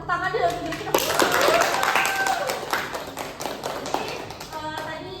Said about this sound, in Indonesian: Tepuk tangan dulu untuk diri kita.